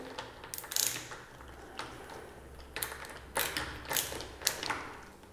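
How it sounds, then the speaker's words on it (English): A 17mm nut driver loosens the front wheel screw on a MetroboardX electric skateboard, giving a series of dry ratcheting clicks in irregular bursts, close and fairly quiet. "take your 17mm nut driver again and go ahead and loosen the screw"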